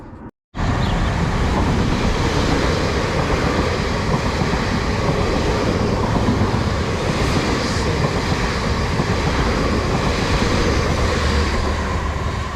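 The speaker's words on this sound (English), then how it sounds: "passing through there was 458, 536 and 531 on the service from Bracknell to London Waterloo" Class 458 electric trains run fast through a suburban station near Heathrow on the Bracknell to London Waterloo line, making a loud, continuous roar of wheels and carriages that starts abruptly and holds steady throughout, with no talking.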